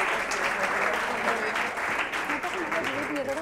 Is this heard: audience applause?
yes